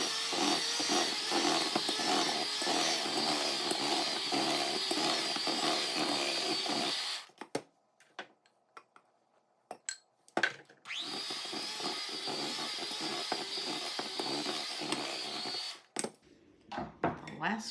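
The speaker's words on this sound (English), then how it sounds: "I'm going to put part of my powdered sugar in and mix on low until all of it is in." Electric mixer running on low, blending butter, orange juice, zest and powdered sugar for an orange cake, a steady whirring drone that stops briefly amid clatter, then resumes before cutting off again.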